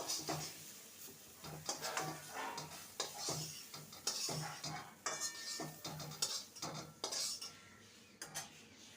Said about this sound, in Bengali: ফুলকপিটাকেও সুন্দর করে ভেজে নিয়েছি এবার এটাকে তুলে নেব